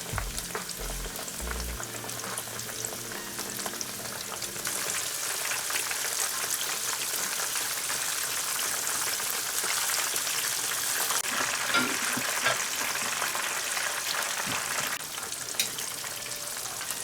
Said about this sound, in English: Deep fry the fish in oil at around 170 degrees Celsius until both sides are brown and crispy.